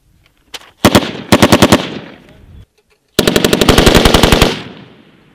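Military machine gun firing at a target during war games: a single shot, then two short rapid bursts, a pause, and a longer sustained burst, loud and close with echoing tails.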